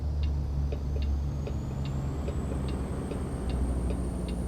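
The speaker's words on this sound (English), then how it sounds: "Even that little whistle on the brakes as well." A Kenworth W990 logging truck in American Truck Simulator lets out a thin, high air brake whistle that slowly rises in pitch, over a low engine rumble and a steady ticking indicator.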